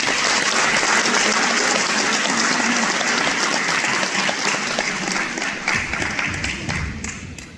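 Sustained crowd applause honouring teachers at a municipal ceremony, dense clapping from many hands that holds steady and then gradually thins out toward the end.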